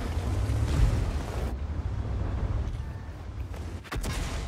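Cannon fire from a Cobra tank in World of Tanks rumbles heavily at first, then drops away. A sharp impact-like crack lands near the end over the steady low engine drone.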